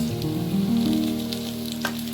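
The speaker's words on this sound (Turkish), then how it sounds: "Şu an için soğanımızı pembeleştiriyoruz" Steady sizzling of onions frying in a pan, a continuous close crackle with a faint stirring scrape partway through and no voices.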